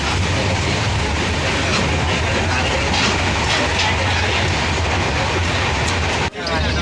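A moving passenger train bound for Mumbai, heard from inside the carriage: a loud, steady roar with rumbling wheels and a faint rhythmic clatter, muffled chatter underneath, then a brief thump and dip near the end.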